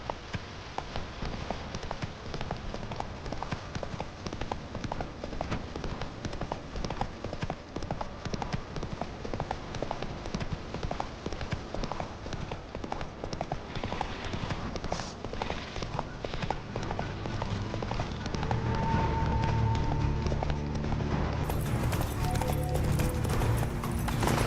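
Roach, the horse in The Witcher 3, gallops with a steady rapid clip-clop of hooves that keeps up throughout, growing louder and fuller toward the end.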